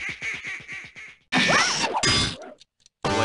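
A cartoon duck in the You Don't Know Jack trivia game quacks in a quick run of rapid quacks, then a burst of squawking mixed with a clang and whack, followed by brief silence and another loud hit.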